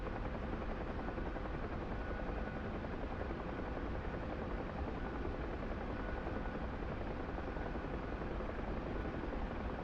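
A helicopter flies in a Syria campaign of a military video game. Its rotor drones as a steady, dense, loud chop that holds without a break for about ten seconds.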